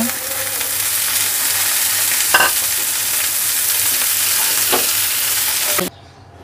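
Eggplant and coriander leaves frying in a pan with a little oil and fried onion make a loud, even sizzle, broken by a few scrapes of stirring before the sound cuts off abruptly.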